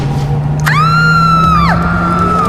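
A ghost in a horror cartoon gives one loud, drawn-out wailing scream that rises sharply, holds, then falls away, over a constant low hum.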